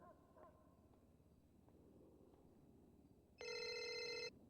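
A phone text notification in the NoPixel role-play game, a bright electronic chime lasting under a second that rings out clearly near the end over faint background noise.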